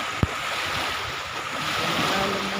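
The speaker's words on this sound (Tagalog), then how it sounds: "Maalon ng konti." Choppy water with waves sloshing and rushing under steady wind noise, continuous and fairly close, with one sharp knock near the start.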